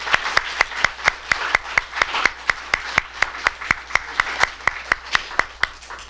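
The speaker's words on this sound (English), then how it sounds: "Just another round of applause" Applause at the William Sloane Coffin, Jr. Peacemaker Awards 2022, dominated by one close, sharp pair of hands clapping in a fast, even rhythm over a faint background of wider clapping.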